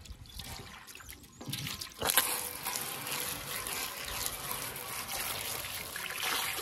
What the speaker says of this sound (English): Now let's rinse it off and see how it looks.